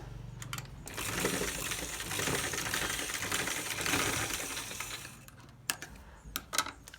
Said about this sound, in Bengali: এখন এই যে পট্টির কাপড়টা আছে এটাকে জাস্ট এইভাবে করে নিয়ে আমি সাইডে একটা সেলাই করে নিচ্ছি